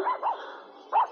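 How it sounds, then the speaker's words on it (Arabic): A small cartoon dog barks three times in short, bright yips, the first two close together and the third after a brief pause, with no talk over them. "إنه كلب سالي الصغير توتو"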